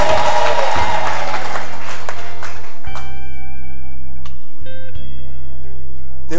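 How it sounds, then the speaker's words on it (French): A church congregation at a Sunday morning service applauds loudly in a dense burst of clapping that fades after a few seconds, leaving sustained organ or keyboard tones ringing on. "Acclamez pour la gloire du Seigneur."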